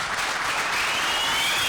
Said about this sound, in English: Mr. Moderator, hold the applause, please.